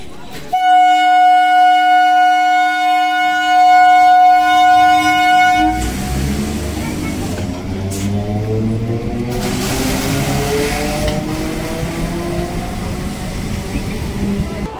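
Gede local train near Banpur station in Nadia, a loud multi-tone horn blast for several seconds followed by the rumble and clatter of the train rolling past close by.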